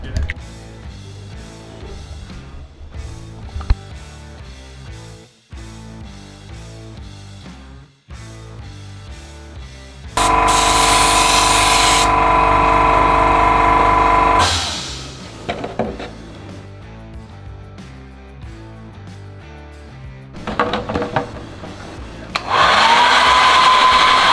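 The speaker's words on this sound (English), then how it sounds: "I use the Iwata HPCS Eclipse airbrush" An Iwata HPCS Eclipse airbrush sprays pearl blue paint onto an RC car body shell, two loud, steady bursts of airy hiss over background music, the first lasting several seconds and the second starting near the end.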